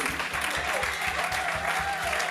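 A worshipping congregation at a Friday Bible seminar claps and cheers for Jesus, with a dense, steady wall of applause mixed with voices and a rhythmic low beat underneath.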